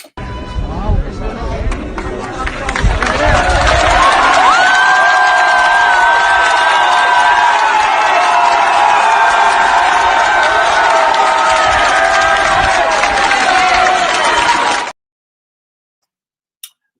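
A large crowd at a Catalan independence rally, as a Spanish flag is pulled from a town hall flagpole, cheers and shouts loudly without a break. The roar holds for about fourteen seconds, then cuts to silence.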